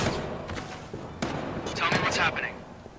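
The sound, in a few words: gunshots in the video game Watch Dogs 2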